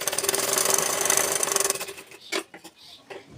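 A sewing machine stitches a folded fabric belt for a baby frock, running in a steady rapid whir of needle strokes for about two seconds before stopping, followed by a few short handling knocks and rustles.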